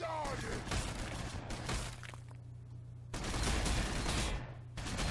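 Rapid gunfire from the Warhammer 40,000: Sanctus Reach battle game, dense crackling volleys filling most of the five seconds with a brief lull in the middle, loud and continuous over a low rumbling background.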